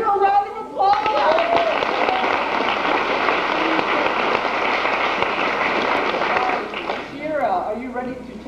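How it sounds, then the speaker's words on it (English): A crowd breaks into loud, sustained clapping for several seconds, with a voice speaking briefly before and after. "Give her a round of applause."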